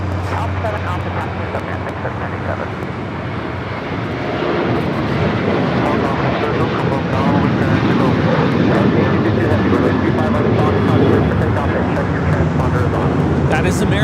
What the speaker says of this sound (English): taking off to Dallas-Fort Worth on the 737-800